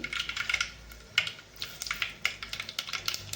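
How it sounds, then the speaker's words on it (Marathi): Mustard seeds spluttering in well-heated oil in a pot, giving a quick, irregular run of small dry pops and crackles, faint and close, with no talking. "मोहरी छान तडतडली की टाकायचं आपल्याला"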